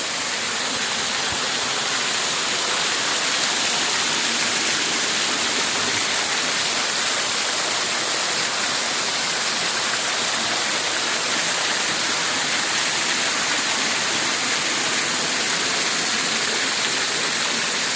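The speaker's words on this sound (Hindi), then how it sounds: "आप सुन रहे होंगे वाटरफॉल की आवाज़ है, काफ़ी तेज़ आ रही है" A loud waterfall at Palitana roars as a dense, continuous rush of falling water that stays steady and close throughout, with no talking.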